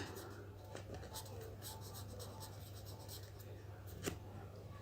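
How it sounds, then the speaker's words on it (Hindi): Pen or chalk writing out an answer to a class question, faint scratchy strokes over a steady low hum with a quiet voice now and then. "आंसर अब हम लिखेंगे"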